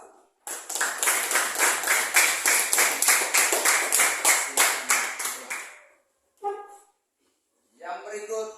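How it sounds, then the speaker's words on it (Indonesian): A classroom group applauds with steady, brisk clapping for about five seconds, loud and close, then it stops abruptly, followed by brief speaking voices. "kita berikan aplaus untuk kelompok 1"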